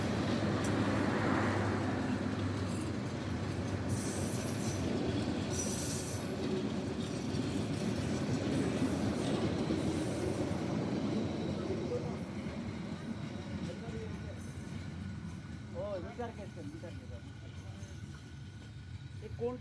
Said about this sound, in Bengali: তবুও এই ট্রেন চলাটা যেন অন্যরকম একটা নতুন একটা পরিবেশ